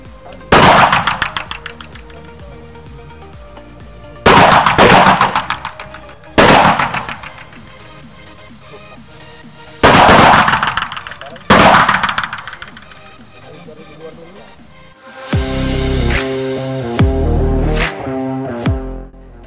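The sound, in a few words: three gunshots fired in a row at shooting practice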